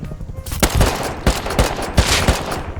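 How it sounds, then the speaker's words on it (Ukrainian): Pipe gun fired in the survival video game Rust, a rapid series of sharp, loud gunshots in irregular bursts, with no speech. "з трубки стріляють"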